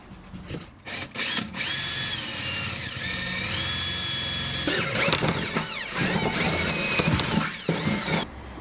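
A power drill bores a pilot hole through a van's floor, its motor whining at a steady pitch for several seconds, then labouring and stuttering as the bit bites through, with short starts and stops, close and fairly loud.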